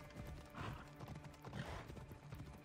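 Horse hoofbeats pound in a rapid galloping rhythm during a ride in the video game Assassin's Creed Odyssey, close and steady, with a brief whinny-like sound and no speech.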